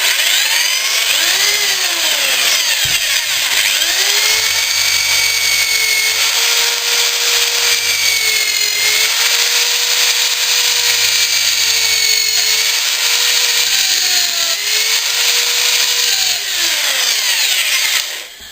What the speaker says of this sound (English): You're just drilling through to mark the wood,